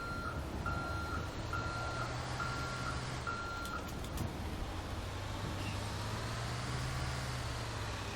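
A bus in GTA 5 gives out steady, evenly spaced reversing beeps, about six in a row, over a constant low engine hum that keeps running after the beeping stops.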